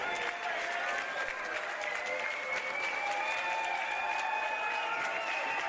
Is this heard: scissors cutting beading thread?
no